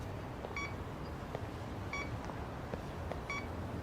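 A phone in the video game Lost Judgment gives three short electronic beep bursts, evenly spaced over a low background hum, with no talking.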